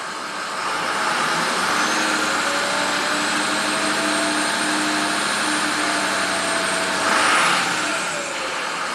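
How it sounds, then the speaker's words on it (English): A Ford PowerStroke diesel truck engine runs at a raised, steady idle and then gets a brief rev before it settles. The sound is close, a continuous hum and whine with no talking. "I'm going to rev it up a little bit"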